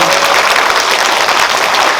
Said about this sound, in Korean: 그런 박수 한번 부탁드립니다.